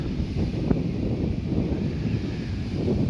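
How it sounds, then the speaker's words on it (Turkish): Steady, blustery wind buffeting the microphone outdoors on the Dikili seashore, a constant low roar with no speech. "Rüzgar otomatikman denizi dalgalı yapıyor."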